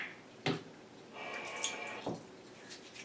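Sink tap running while hands are wetted: soft, uneven water flow and splashing with a few sharper splashes of hands in the stream, close and quiet, no talk.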